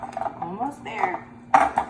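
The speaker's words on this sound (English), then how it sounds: "you're gonna scoop the peanut butter cookies right onto the pan" Metal spoon scraping and clinking against a baking pan while peanut butter cookie dough is scooped onto it, a few short close clatters with a louder knock near the end.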